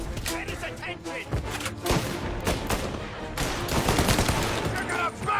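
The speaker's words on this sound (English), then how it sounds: "Reports of gunshots rolling in." Bursts of gunfire ring out in the video game Mafia: Definitive Edition, rapid volleys and single shots crackling in quick succession with game voices mixed underneath.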